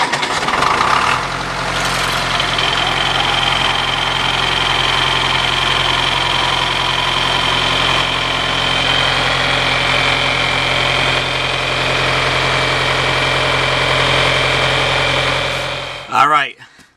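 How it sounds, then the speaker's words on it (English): John Deere 410 backhoe engine idles steadily and loudly for most of the span, a constant mechanical drone with strong low harmonics, starting up just after the opening second and cutting off near the end. "let me start it up real quick, and I'm sure you'll see the problem right away with the oil leaking"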